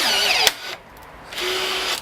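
Cheap cordless 1/4-inch rivet gun on a 4 amp hour battery pulling a stainless hemlock rivet: a close whining motor strains, cuts out briefly, then whirs again as the tool resets.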